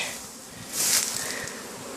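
A swarm of bees buzzes close by, a soft hum that swells sharply for about a second as bees pass near and then settles back to a steady drone.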